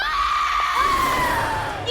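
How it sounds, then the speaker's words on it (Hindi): A loud, drawn-out scream rings through a haunted mansion, a sustained high wail over a busy background that wavers and slowly fades. "ये किसकी चीख है?"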